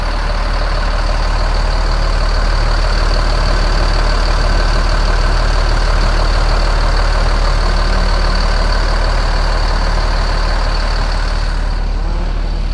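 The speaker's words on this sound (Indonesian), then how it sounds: "ini suara mesinnya kedengeran ya, masih halus banget" A coach bus engine idles with a steady, low rumble and no changes in pitch, a smooth, even drone close by.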